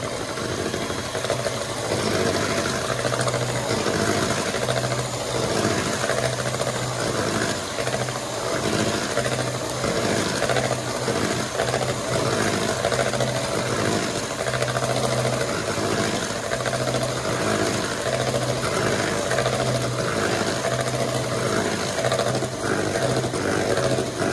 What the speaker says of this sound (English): we will now whisk all these ingredients for 2 minutes